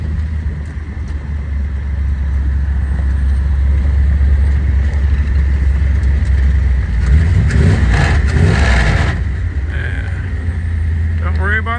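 A 1958 Edsel hardtop driving with its engine running loud and steady throughout, a low rumble with a rising rev near the middle and some gear noise from its non-synchronized low gear, while someone talks over it.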